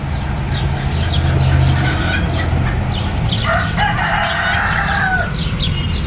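A rooster at Baris Park in Girne, Kyrenia crows once, loud and close, its long call rising over a constant rumbling background with a few clucks beforehand.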